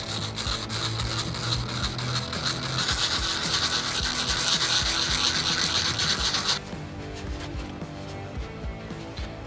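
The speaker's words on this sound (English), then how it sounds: "you kind of want to just sand off that top layer of just bad stuff on your brake pad" A mountain bike brake pad is rubbed on sandpaper in circular motions, giving a steady close-up scratching and rasping that continues without pause, its tone shifting slightly partway through.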